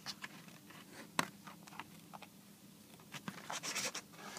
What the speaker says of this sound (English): take your scissors and just follow the lines